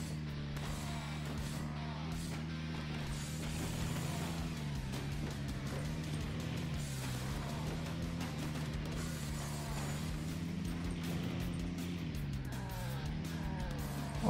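A car, the Batmobile, driving in the video game Earn to Die 2, with a steady engine drone whose pitch wavers gently as it rolls along and no talk over it.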